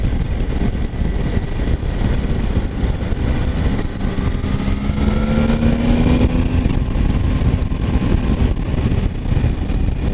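A Triumph Tiger 800 XR motorcycle, 2019 A2 version, is ridden with a loud, close engine drone that climbs in pitch, drops and climbs again as the rider shifts up two gears, with steady wind noise throughout.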